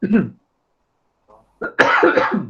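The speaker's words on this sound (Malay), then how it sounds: "Batuk sikit." A short cough, then a pause, followed by a few more coughs and throat-clearing sounds, close and fairly loud.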